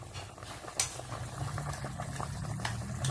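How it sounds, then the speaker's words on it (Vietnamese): A pot of chicken with coconut simmers at a rolling boil, a steady low bubbling texture with a brief louder pop near the start, close and continuous with no talk. "Nồi gà sôi sắp chín rồi ha."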